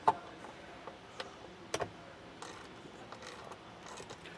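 Hand tool removing T25 screws from the spare tire carrier on a 2024 Jeep Wrangler, heard as faint ratcheting clicks and a few sharp metallic taps in a quiet space.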